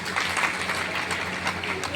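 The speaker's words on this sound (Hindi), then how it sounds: "इन महान हस्तों के लिए एक बार दिल से तालियां होनी चाहिए दोस्तों" An audience at a business gathering applauds its mentors: continuous crowd clapping with scattered sharper claps, mixed with voices talking underneath.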